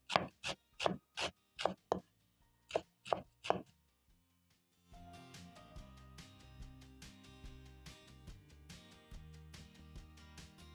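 A knife chops curly kale on a board: a quick run of about six crisp strikes, a pause, three more, then a softer, busier stretch of rapid cutting with faint clatter.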